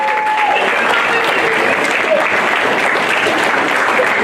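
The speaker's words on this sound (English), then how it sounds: "let's applaud these parents." At a freshman football banquet, an audience applauds players' parents with dense, steady clapping that stays loud and even for the whole stretch, with faint crowd murmur beneath.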